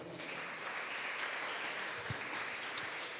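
A church congregation applauding during a worship service, a soft, steady crowd clapping heard from a distance, with a couple of faint knocks.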